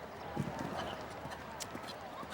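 Show jumping horse hooves at a Nations' Cup event, soft muffled thuds of a horse moving across the arena, faint and distant beneath a commentator's voice.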